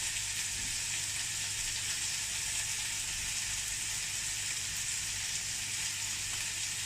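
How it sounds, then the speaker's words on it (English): Chicken pieces for sweet and sour chicken fry in a hot pan, giving a steady, close, continuous sizzle and crackle with no breaks or voices throughout. "sizzling nicely."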